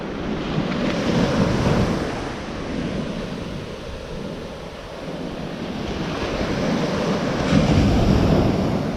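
Ocean waves wash onto the shore at Old Orchard Beach at night, a continuous surging roar that rises and falls, with gusty wind buffeting the microphone.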